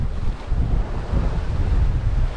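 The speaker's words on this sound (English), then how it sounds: "just really windy and wet" Gusty wind buffets the microphone over a steady wash of sea waves on the open Atlantic, aboard a sailboat on a windy, wet passage, a continuous low roar with no voices.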